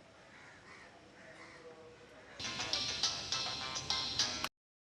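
A phone ringtone cuts in sharply partway through and rings loudly in a repeating pulsing pattern for about two seconds, after a quieter stretch with faint background voices.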